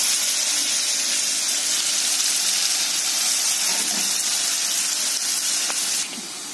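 Onion frying in hot oil for a prawn masala, a broad steady hiss and sizzle that holds evenly at moderate level and eases off slightly at the end, with no talking.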